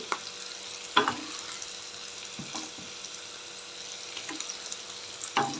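Thinly sliced onion sizzles steadily in hot oil in a pan for tomato rice, with a few sharp clinks and scrapes of stirring at irregular intervals.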